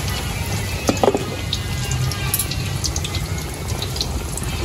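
Water pours steadily into a cooking pot during home meal preparation, a continuous close splashing hiss that runs evenly throughout with a few faint clinks.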